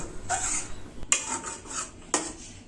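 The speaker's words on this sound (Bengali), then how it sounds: "এখন আমি চারপাশের সরগুলো এরকম উঠিয়ে দুধের সঙ্গে মিশিয়ে দেব" A metal spoon scrapes the sides of a pan of simmering milk for rabri, lifting the skin and stirring it back in, with three distinct scraping strokes and light clinks of metal on metal.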